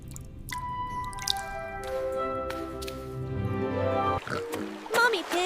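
Water drips from crystal rock in an animated cave, with plinking drops over soft musical tones and faint voices.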